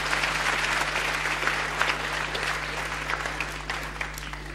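Studio audience on a 1978 NCRV Dutch television show applauding for Aad, a dense, steady patter of many hands clapping over a low constant hum, without talk.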